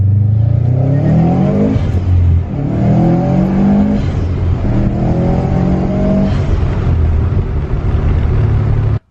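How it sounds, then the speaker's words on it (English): A loud Subaru WRX STI engine rumbles continuously nearby, revving up in repeated waves with a deep, throaty burble. "the sound of a Subaru. The rumble they make"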